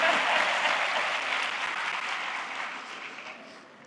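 An audience at a graduation ceremony applauds in a dense, even wash of clapping that gradually tapers off over a few seconds.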